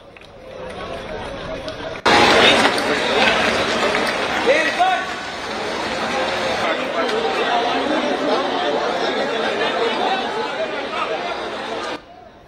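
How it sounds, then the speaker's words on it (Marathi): Large crowd gathered outside the Apple Store at BKC in Mumbai for the iPhone 16 sale launch, a dense, loud babble of many voices with shouts and cheers swelling in, sustained and close throughout. "ही ॲपल स्टोअर बाहेरची गर्दी"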